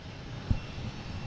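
An American Eagle Embraer E170 jet at Boston Logan International Airport gives a steady, moderately distant engine roar with a faint bump partway through. No voices are heard.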